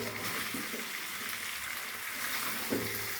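Potatoes frying in a chicken curry masala, a steady close sizzle with a soft stir or scrape near the end, no talk.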